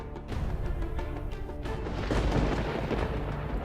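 A thunderstorm sound effect from an animated fairy tale about a stormy sea: a continuous deep rumbling roll that swells slightly toward the end, with no voices over it.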